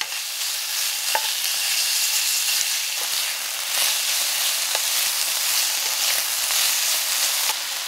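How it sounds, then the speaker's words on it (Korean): Minced garlic, ginger and green onion stir-fry in a generous pool of oil over medium heat, a steady close broadband sizzle with occasional spatula scrapes and crackles, continuous for several seconds with no talk. "중불에서 다진 마늘과 생강, 대파를 넣어 볶는다"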